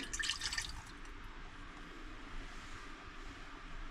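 Half a cup of water poured into a pot for sugar syrup, a brief splashy trickle at the start that settles into a faint, steady liquid wash with a low background hum.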